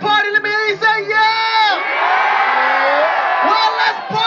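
A live concert crowd at a show in Doha roars 'yeah' in answer to the stage. The shouting is loud and sustained, with sharp whoops poking out of a dense wall of voices.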